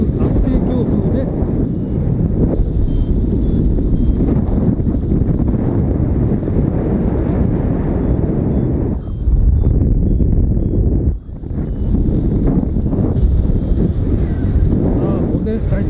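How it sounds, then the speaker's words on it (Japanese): Strong, steady wind buffets the microphone in a loud, continuous roar during a flight, with a brief lull partway through and a voice speaking under it. "強風、安定強風です。"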